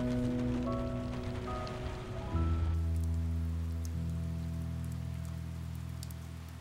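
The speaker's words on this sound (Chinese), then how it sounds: "又下雨了。" Steady rain falls outdoors, a soft, continuous hiss that swells after a couple of seconds and keeps going under sustained musical tones.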